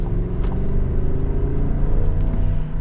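A 2023 GMC Yukon XL with the 5.3 V8 accelerates on a bumpy road, a loud, close, continuous low engine rumble rising slightly as it pulls, with no talking.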